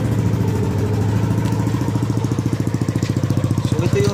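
A Yamaha Nmax V2 scooter fitted with a Sun Racing Spirit exhaust pipe idles up close, a loud, even, throbbing putter that keeps a steady pulse throughout.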